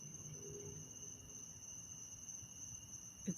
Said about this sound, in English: The crickets are just kind of a shimmer of sound.